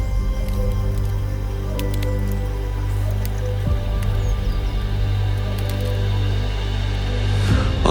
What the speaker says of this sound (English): Raindrops fall through the canopy, blending with the drone of frogs and cicadas.